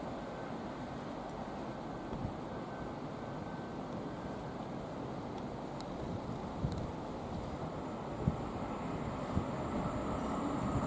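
An IET train on the Great Western Main Line at West Ealing, bound for Oxford, rolls past as a steady broad rumble with wheel noise and wind, holding level throughout with a few sharp clicks from the rails.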